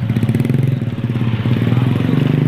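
Motorcycle engine running steadily nearby at a traditional village market in West Sumatra, a continuous low rumble with faint voices in the background.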